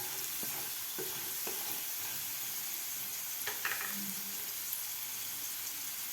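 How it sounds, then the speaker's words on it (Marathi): Potatoes frying in oil in a pan while a potato and capsicum sabzi is being made, giving a soft, steady sizzle with a few faint clicks and stirring scrapes. "थोडेसे फ्राय झालेले आहेत बटाटे."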